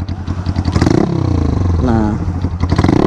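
Yamaha New Vixion motorcycle with a Tridente F20 Raptor exhaust in racing mode, revved in quick throttle blips that rise sharply and fall back to a rumbling idle, loud and close.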